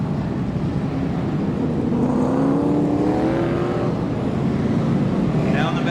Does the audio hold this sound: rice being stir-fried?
no